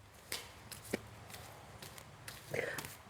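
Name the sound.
shuffling a deck of tarot cards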